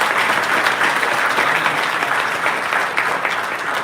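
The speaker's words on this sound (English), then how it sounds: "So give Susan a massive round of applause as well." An audience at a live public meeting breaks into sustained applause, a dense wash of many hands clapping at close range, holding steady for several seconds before easing slightly at the end.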